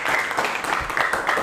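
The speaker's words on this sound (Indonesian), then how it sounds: "kita kasih aplaus untuk kelompok" A group applauds after a class presentation, a steady, even patter of many hands filling the room without a break.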